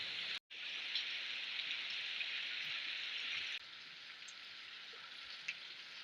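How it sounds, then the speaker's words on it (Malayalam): Steady, heavy rain pours without pause, a dense hiss that drops slightly in volume partway through and continues. "ഇന്ന് രാവിലെ ഭയങ്കര മഴയാണ്"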